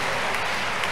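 A crusade congregation claps for Jesus as a clap offering, a dense, loud, steady wash of applause filling the whole short moment without a break.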